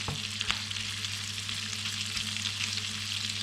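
Constant crackling sizzle of prawns frying in a pan, close and steady, with a low hum underneath and an occasional small clink.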